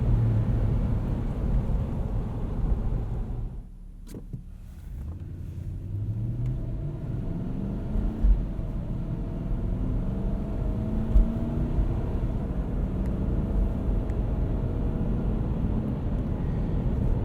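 A 2006 Toyota 4Runner on Firestone Destination X/T winter tires drives a rough, snowy road, heard as a steady low cabin rumble and tire roar that stays even throughout, with no talking.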